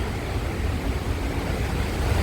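High wind from a passing storm roars steadily and loudly in an even, broadband rush with low buffeting rumble, likely striking the microphone, and runs on without a break and without speech.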